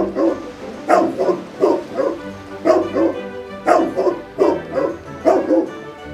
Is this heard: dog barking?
yes